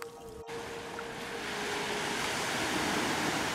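Surf washing onto a beach in Gran Canaria under a yellow-flag sea, a steady broadband wash that builds gradually and stays continuous, with a faint tonal hum in the background and no voices.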